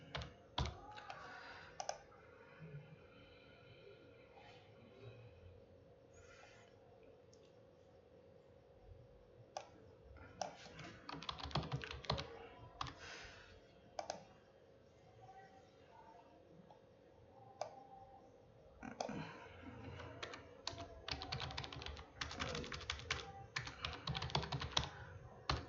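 SQL commands typed on a computer keyboard, with bursts of quick key clicks separated by pauses, fairly close but quiet over a faint steady hum.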